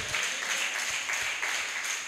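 A church congregation claps together during Sunday worship, a steady dense patter of many hands that stays loud and even for the whole stretch, with no voices standing out.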